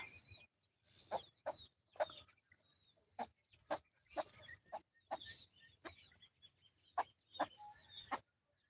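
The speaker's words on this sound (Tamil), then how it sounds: "சாணி பறிக்கிற கோழிங்க" Free-range country chickens cluck repeatedly nearby in short, sharp bursts spread evenly over several seconds, with a soft farmyard background.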